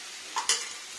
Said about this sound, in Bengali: একটু জল থাকলে চার করে শব্দ ওঠে